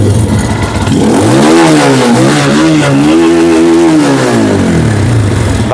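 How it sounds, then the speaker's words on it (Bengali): A racing motorcycle engine started up and revved loudly, its pitch climbing and falling in several sustained swells, very close and alone. "আমরা এই বাইকটা স্টার্ট করে এবার সাউন্ডটা দেখানোর চেষ্টা করব"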